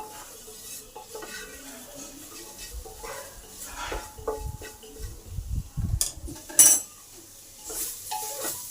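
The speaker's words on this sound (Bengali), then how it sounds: "এবার সয়াবিনটাকে ভালো করে ভেজে নেব।" Soybean chunks frying with turmeric and chilli powder in a pan, spatula scraping and clinking against the metal in irregular bursts over a soft sizzle, close and moderately loud.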